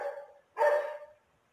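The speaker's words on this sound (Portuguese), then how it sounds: "Ó, o cachorro latindo." A dog barks once at a distance, a short sharp burst that stands out against a quiet background with a faint fading tail.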